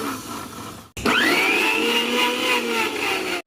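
A kitchen mixer grinder blending a banana milkshake starts after a short quiet moment, rising into a loud, steady whining motor drone that holds and then cuts off abruptly.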